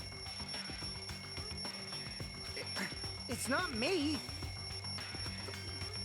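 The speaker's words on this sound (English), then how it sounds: "The wall clock just started ringing." Wall clock alarm ringing in the video game Danganronpa 2: Goodbye Despair, a steady high electronic ringing tone running throughout, with voices talking over it and a brief warbling vocal exclamation midway.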